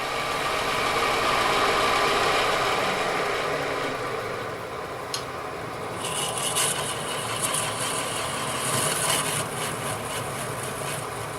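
A natural edge bowl spins on a wood lathe at reduced speed, giving a steady whirring hum with a broadband rush and faint hiss, steady throughout with a few brighter scraping bursts in the latter half.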